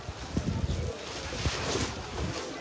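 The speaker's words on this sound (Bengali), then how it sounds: "সুন্দর একটা ওয়েদার, বাতাস আছে" Gusty wind blows across an outdoor Eid cattle market on a sunny day, a steady rough rumble buffeting the microphone as voices murmur in the background.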